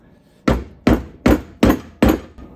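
A rusted master cylinder from a 1970 Triumph TR6 is struck with a tool five times in an even rhythm, each a sharp, close metallic knock with a short decay, with quiet gaps between.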